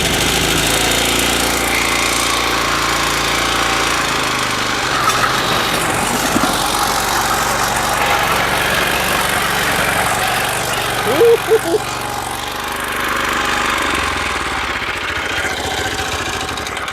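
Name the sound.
Toro Greensmaster 1000 mower engine running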